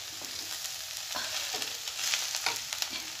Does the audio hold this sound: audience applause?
no